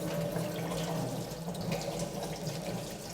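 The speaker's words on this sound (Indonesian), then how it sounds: "Membuka keran air. Membasuh kedua lengan hingga siku." Water runs steadily from an opened tap during hand washing, a continuous close splashing hiss into the sink with no voice over it.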